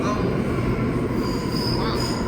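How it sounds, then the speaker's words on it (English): Train pulling into a station, with wheels squealing in a high, sustained screech over a steady low rumble of rolling cars, close and loud throughout. "Oh, the fucking train."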